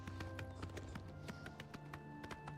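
Horse hooves clip-clop in a quick, regular rhythm on the road in Oblivion Remastered, crisp close taps over a faint steady tonal backdrop of game music.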